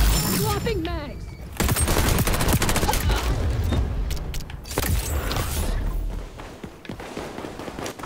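Rapid automatic gunfire in the shooter video game XDefiant, a dense loud burst of shots with reload clatter and game effects, fading into scattered quieter shots while a player talks over it.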